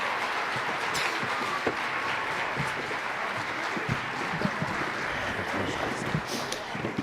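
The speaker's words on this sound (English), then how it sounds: "Let's have another round of applause for the Carson Middle School Jazz Ensemble" Concert audience at a middle school jazz ensemble performance clapping steadily for several seconds, a broad, even patter with scattered louder individual claps and a faint murmur of voices.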